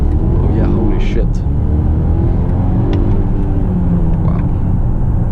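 2018 Volvo XC90 T8 Polestar under full throttle, a loud steady rumble of engine and road noise from inside the cabin with rising whine, and voices briefly exclaiming over it.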